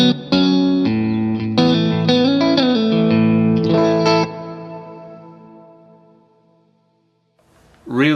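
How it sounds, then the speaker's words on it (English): Distorted electric guitar notes ring out with a dense, shimmering plate reverb from an FX8 effects unit, then the final chord decays slowly into a long, smooth tail. "Really dense, really beautiful plate reverb."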